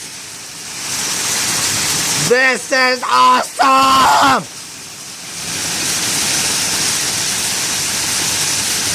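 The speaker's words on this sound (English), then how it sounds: "Look at all the hail! Look at that hail! It looks like a penny-sized hail, or a quarter-sized hail." Steady roar of penny- to quarter-sized hail pelting down during a hailstorm, loud and continuous throughout, with an excited voice shouting briefly over it in the middle.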